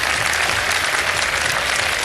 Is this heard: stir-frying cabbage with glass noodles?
no